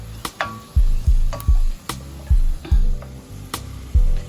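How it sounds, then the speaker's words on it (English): Shrimp being stirred in a hot pan for an egg noodle dish, with a steady sizzle broken by repeated sharp scrapes and knocks of the utensil at an irregular, quickening rhythm, close and fairly loud with no talk. "Add your shrimps back to the pan, okay, and give it a stir."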